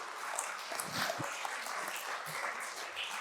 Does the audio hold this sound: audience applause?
yes